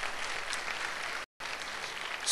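A pageant audience at the Glam Hunt 2008 contest breaks into steady, dense applause that fills the room, stops abruptly for a split second, then resumes just as full.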